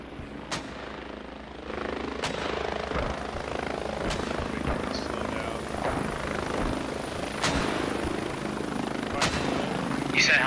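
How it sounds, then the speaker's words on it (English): A hostile helicopter in a video game, its rotor thudding steadily at moderate distance, with a few sharp clicks or distant shots over the continuous drone. "Is that a hostile rotor?"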